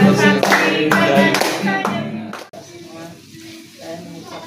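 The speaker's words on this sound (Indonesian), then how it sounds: "bernyanyi sambil tepuk tangan" Hands clap in a steady rhythm alongside voices singing at a family home gathering in Indonesia, then the clapping stops abruptly and a quieter, hollow background remains.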